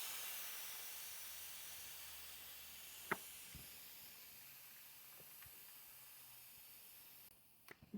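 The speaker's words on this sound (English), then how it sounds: "Now we'll want to let the air out of the tube that's inside." Air hisses steadily out of the inner tube of a bike tire on an Aventon Ramblas e-bike, a faint continuous rush with a few small clicks before it tapers off.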